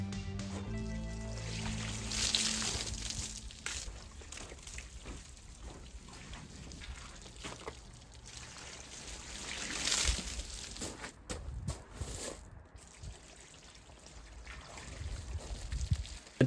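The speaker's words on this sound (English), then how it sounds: "we will use the water bucket to rinse the car" Water poured from a bucket splashes over a car during a rinse, with a couple of louder sloshing bursts and a steady trickle and dribble between them, fairly close and with no talking.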